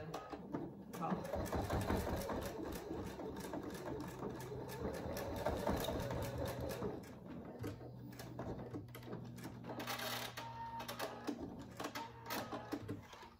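Sewing machine stitching down the folded edge of a fabric dog collar, running in several steady bursts with short pauses, close and fairly quiet, with a person talking at times.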